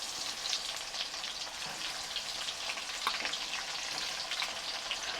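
Chopped onions fry in oil tempered with whole spices for a five-spice chicken dish, giving a steady, dense sizzle throughout with a few faint crackles and no voices.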